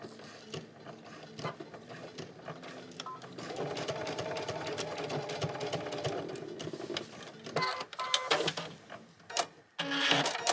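A sewing machine runs stitches stitching embellishments onto a silk bodice, a fast mechanical rattle with steady whirring and periodic stops and restarts, heard close and alone.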